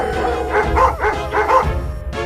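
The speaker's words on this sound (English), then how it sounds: "Suddenly, some dogs barked in the distance, and the fox was very startled." Dogs bark in a quick run of loud, close woofs and yips, several barks in a row ending in a short higher call.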